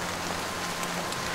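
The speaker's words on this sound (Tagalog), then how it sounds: "doon na bumuhos ang malakas na ulan." Heavy rain pours down steadily as a dense, even hiss of drops on surfaces, continuous and close throughout.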